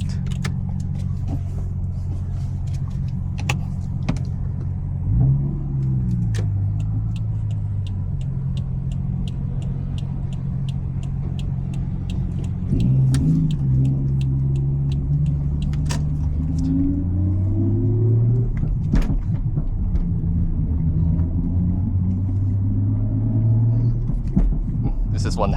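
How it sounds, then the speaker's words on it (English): A car with a Toyota 1JZ engine and a large, loud, rumbling exhaust drones steadily, revving up in rising sweeps a few times as it accelerates, with occasional clicks and taps nearby. "Driving a 1JZ with a big ass exhaust to the airport to drop off customers"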